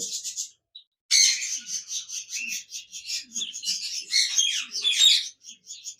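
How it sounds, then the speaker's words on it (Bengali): Zebra finches kept in a cage chirp in rapid, high, scratchy bursts, several birds calling close together in a busy, uneven chatter with brief pauses. "জেব্রা পাখি রয়েছে"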